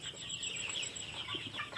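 Roosters and hens on a poultry farm, faint continuous clucking and murmuring from a flock at some distance, without talk.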